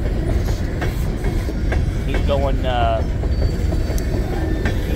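A Union Pacific empty coal train rolls past heading north toward St. Louis, with a loud continuous rumble, rhythmic wheel clatter and a brief squeal of wheels, while a person speaks over it.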